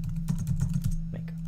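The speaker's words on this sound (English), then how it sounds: "And I'll type make here." A command is typed on a computer keyboard, a quick run of light clicking keystrokes close by, brief and with no voice.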